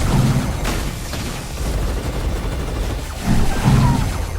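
Starfighter weapons fire in a space battle: rapid bursts of booming, rattling blasts, loud and close, coming in clusters over a constant rumbling bed.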